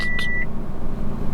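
A Subaru gives one short, high electronic warning beep after its battery was disconnected, heard close over a steady low hum, followed by continuing background noise.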